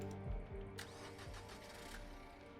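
A car engine in a video game cranks and catches as the car is stolen, settling into a steady mid-pitched idle with a brief rev, clear and moderately loud.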